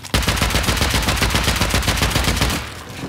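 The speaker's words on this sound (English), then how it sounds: "We can shoot in between the gap of the lockers." Rapid automatic gunfire in a survival video game, a loud, continuous burst of evenly spaced shots for over two seconds before cutting off, close and dominant with no talk.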